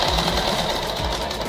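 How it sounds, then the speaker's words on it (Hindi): Sewing machine running steadily while stitching a petticoat, gathering the waistband into pleats; a continuous close, loud whirring hum with a faint rhythmic needle pulse throughout, no voices. "आपको ये सिल देना है पूरा ये नेपे डालते हुए।"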